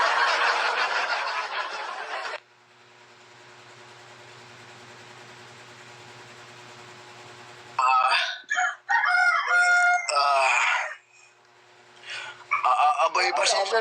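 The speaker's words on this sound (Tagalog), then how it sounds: "Pasensya na po kayo sa manok po. Sapagkat ito po ang alaga ko." A pet rooster crows in loud, ragged bursts near the microphone, with a quieter stretch of background hum between calls; no speech over it.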